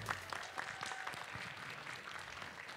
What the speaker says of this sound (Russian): под ваш аплодисмент